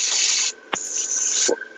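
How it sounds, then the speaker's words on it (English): A close, loud airbrush hisses in sharp bursts with a high, thin whistle over the spray, broken by brief clicks. "Making a whistling noise when I'm spraying through the hole."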